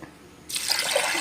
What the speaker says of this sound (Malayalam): രണ്ട് രണ്ടര കപ്പ് വെള്ളം